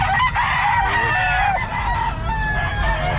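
A white Kelso rooster crows loudly and close at a busy pet market, one long drawn-out call over a steady crowd murmur with other fowl sounding nearby.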